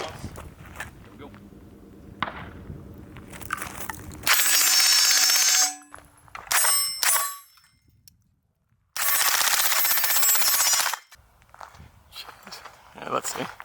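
Springfield Kuna rifle with a Nexus Firearms aluminum lower firing a 20-round magazine, with dense rapid bursts of loud close shots in two long strings separated by gaps, with talk between them.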